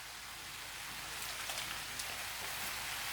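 Rain falls steadily at a mountain campsite along the Marikina–Infanta Highway, a soft, even hiss of drops on surfaces with a few slightly nearer patters, moderately faint and without voices.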